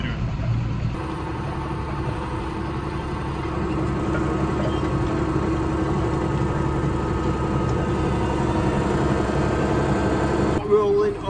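A tractor engine drones steadily while it pulls a roller across a field, a loud, even mechanical hum that lasts the whole stretch, with a brief knock near the end.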